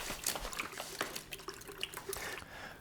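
Water being stirred into a bread starter, giving soft sloshing and dripping splashes with small clinks, close and fairly quiet, with no talk.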